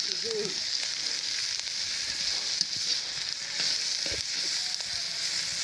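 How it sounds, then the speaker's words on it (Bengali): Pumpkin peel frying in a pan makes a constant, even hiss of sizzling oil at moderate loudness, with faint occasional taps and scrapes and no talk over it. "এরকম খুব সুন্দর করে কিন্তু ভেজে নিচ্ছে"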